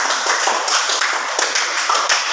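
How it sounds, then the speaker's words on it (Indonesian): A small group clapping after a school game presentation, with distinct, uneven hand claps in a close, lively rhythm throughout. "Mari kita beri tepuk tangan sekali lagi untuk"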